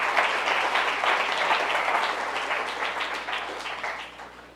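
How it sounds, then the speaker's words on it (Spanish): An audience of preparatory-school students applauds to welcome a lecturer before a talk; steady, full clapping that gradually thins and fades toward the end. "Vamos a darle un fuerte aplauso para que inicie su conferencia"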